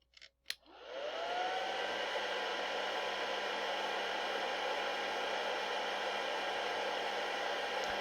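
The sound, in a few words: hair dryer blowing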